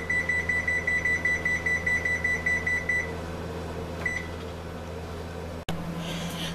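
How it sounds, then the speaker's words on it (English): An oven timer beeps in a quick, evenly spaced series of bright electronic tones for a few seconds while bread bakes, then a single short beep follows against a steady kitchen hum. "Set the timer for 30 minutes."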